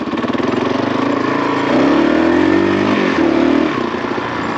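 A Gen 1 Kawasaki KLR 650 single-cylinder engine lugs along at low revs, its thumping exhaust loud and close, rising slightly in pitch midway as throttle is opened, then easing back.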